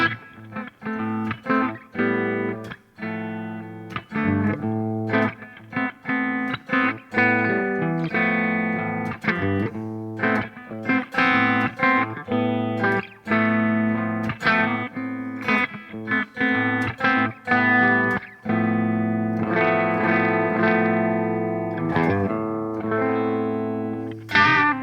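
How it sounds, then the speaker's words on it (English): Clean electric guitar on the bridge pickup with a bright, twangy tone plays a steady, flowing part of picked notes and chords, alone and fairly loud throughout. "don't be afraid of using your bridge pickup for a clean tone."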